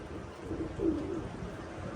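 Soft, low pigeon coos murmur close by over steady background hiss, with no talking.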